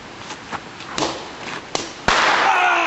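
Firecrackers go off in a series of sharp cracks and thumps, several separate pops followed by a louder blast and a sustained hiss.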